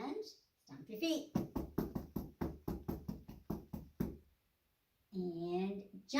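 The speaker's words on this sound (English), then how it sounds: "and stomp your feet." Children stomping their feet during a storytime sing-along, a steady run of about a dozen thumping beats, with talk before and after.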